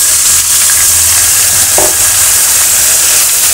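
Eggplant and potatoes sizzle loudly and steadily in a hot pan of oil after fried onion and garlic are taken out. A continuous, close hiss of frying carries on with no voices.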